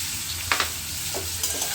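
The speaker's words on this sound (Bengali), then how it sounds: "আর এখানে একটু এবার পেঁয়াজ অ্যাড করে দিলাম" Onions just added to a frying pan sizzle softly while a utensil stirs them, giving a few brief scraping strokes over a steady low fry.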